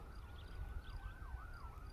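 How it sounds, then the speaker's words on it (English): An ambulance siren wails in a rising and falling sweep at moderate distance, heard outdoors over steady traffic rumble with no talking. "here comes the ambulance"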